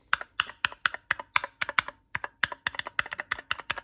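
Keys on a Cardco Cardkey 1 numeric keypad for the Commodore VIC-20 are pressed in a quick, steady run of crisp plastic clicks, close and distinct, with a brief pause midway.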